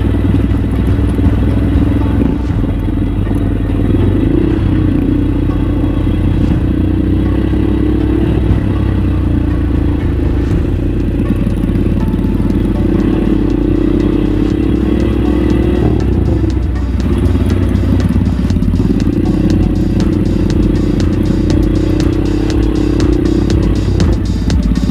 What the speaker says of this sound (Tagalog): lalo na mabigat din yung motor natin